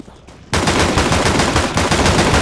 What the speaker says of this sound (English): Dude, stop shooting me!